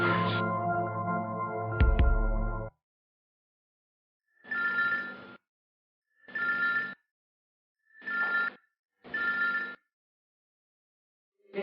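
A telephone bell rings in four even bursts with pauses of silence between them, following a few seconds of louder indoor sound; no one speaks.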